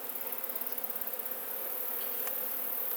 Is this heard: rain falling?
no